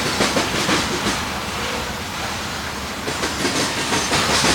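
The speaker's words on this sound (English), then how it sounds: "This train is so big that it often carries a DP unit in the middle or on the bottom." Long freight train rolling past on rails, a continuous loud rumble and hiss of wagons with faint rhythmic clatter, steady throughout.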